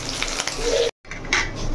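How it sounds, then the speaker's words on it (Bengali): Pakoras frying in hot oil, a close steady sizzle with a brief cut of silence midway, then the hiss resumes. "এই দেখো বাচ্চাদের পকোড়া ভাজা আমার হয়ে গেছে।"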